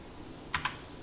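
Two quick, sharp computer keyboard key presses in close succession, close and fairly quiet, over a faint steady background hiss while working in Blender 3D software.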